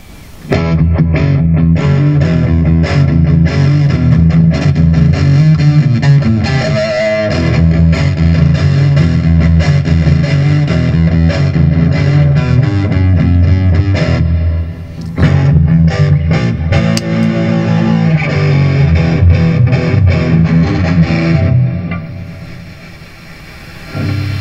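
Electric guitar played through a JHS Colour Box distortion pedal, a loud, splatty fuzz with sustained chords and choppy strums, the tone shifting as knobs are turned, with a brief pause near the middle and no talking.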